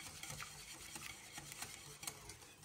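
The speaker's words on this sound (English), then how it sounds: "We have a whisk and we whisk that" A whisk beaten vigorously through a mixture in a kitchen bowl, making a dense, continuous scraping and splashing rhythm, close up and moderately loud, with no speech.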